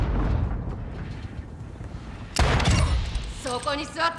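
Rapid gunfire bursts in the video game Call of Duty: Modern Warfare II, mostly shotgun blasts, crackle in quick succession, and a player talks over the shooting.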